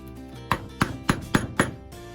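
Chisel struck repeatedly with a mallet while chopping a mortise into wood by hand, five sharp close knocks at a steady rhythm, each taking a small bite.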